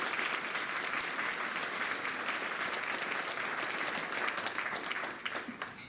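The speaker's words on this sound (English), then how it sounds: "So if we could have a round of applause for that group." At a music building dedication ceremony, an audience gives a sustained round of applause, dense and even with many hands clapping. It thins out and fades near the end.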